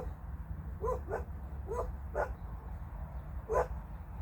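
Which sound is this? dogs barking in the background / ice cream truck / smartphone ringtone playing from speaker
dogs barking in the background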